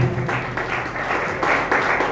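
A congregation at a monthly pastors' association meeting in Jalandhar claps steadily for about two seconds, with dense, fairly loud broadband applause that holds at an even level throughout.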